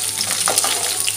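Watery food spattering and sizzling in a pan over a wood-fired clay stove as it is stirred, a brief close crackling hiss with no talk.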